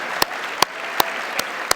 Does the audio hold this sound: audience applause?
yes